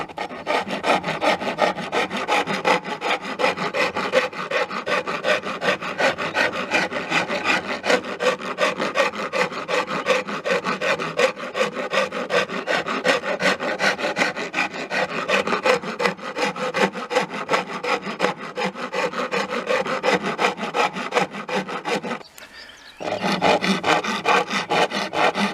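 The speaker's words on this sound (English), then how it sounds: "Once you've removed the corners of the neck with a draw knife, you go on to a rasp for the final sort of shaping." A rasp shapes a wooden guitar neck in rapid, continuous back-and-forth rough scraping strokes, close and loud, with one brief pause near the end before the filing resumes.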